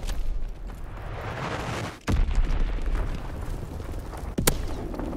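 A bomb explosion in Call of Duty: WWII multiplayer, a sudden heavy blast about two seconds in rising out of steady rumbling battle noise, followed by another sharp crack a couple of seconds later.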